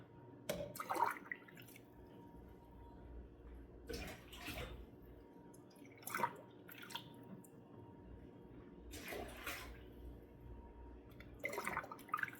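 Water scooped and poured from a pot of pickle jars in a home kitchen, a few separate sloshing, splashing bursts with quiet gaps between them.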